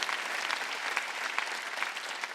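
A church congregation clapping together during a Sunday healing service, a continuous dense patter of many hands at fairly even loudness with no voices over it.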